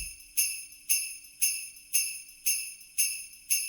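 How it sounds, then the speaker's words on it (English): A bright sleigh bell sample used in a trap beat, jingling in a steady loop of seven shaken hits, each a crisp metallic burst that decays quickly, close and alone. "Next we got the sleigh bell"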